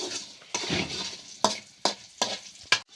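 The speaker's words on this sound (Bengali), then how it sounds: "এই তো সয়াবিনটা আমার ভাজা হয়ে গেছে, লাল লাল করে ভেজে নিচ্ছি" Soya chunks with potato browning in a hot pan, a soft sizzle broken by several sharp scraping strokes of a spatula in uneven rhythm, close and fairly quiet.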